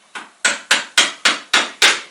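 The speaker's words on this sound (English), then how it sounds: "I'm using a very light hammer" Seven sharp taps of a light hammer striking a two-part sculpture mold during its removal, evenly spaced and close, each ringing briefly.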